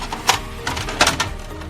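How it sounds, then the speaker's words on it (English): Brother DR-1000 laser printer with its front cover open, giving a few short mechanical clicks and whirring bursts over a steady low hum, close by with no talking. "open up the front cover"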